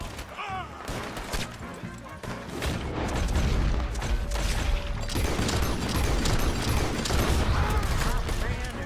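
Gunfire during a chase shootout in Red Dead Redemption 2: scattered shots and mechanical clatter under a rumbling low bed that swells after the first few seconds and stays dense to the end.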